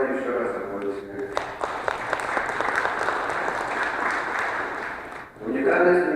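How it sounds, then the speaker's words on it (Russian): Audience applause at a community gathering honoring a 90-year-old elder, a dense round of clapping that swells, then fades out as a voice resumes speaking near the end. "Давайте еще раз аплодисменты."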